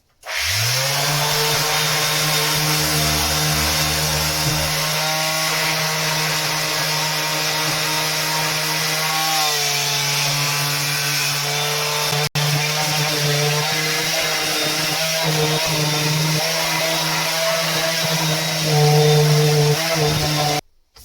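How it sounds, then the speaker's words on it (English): An electric sander runs continuously for about twenty seconds on filler, giving a steady, loud, close motor whine with slight shifts in pitch and no talking. "Let's break out the sander and get cracking."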